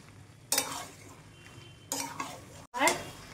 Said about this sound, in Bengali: এবার এটা দিয়ে কষতে থাকবো, কালারটা ভালো আসবে ভাজা মশলাটা দেওয়ার পরে।